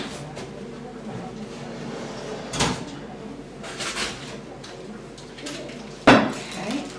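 A bread pot is lifted from a home kitchen oven with a few clattering metal knocks, then the oven door shuts with a sharp close, all near and loud against quiet kitchen ambience.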